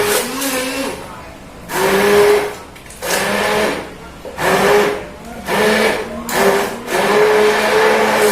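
A blender whirs in repeated on-off bursts while blending a mango shake, each loud pulse of motor hum and churning separated by brief dips.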